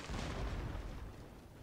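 Distant artillery fire and explosions on a Fall of the Samurai castle battlefield, a low rumbling boom that swells and slowly fades, faint and muffled.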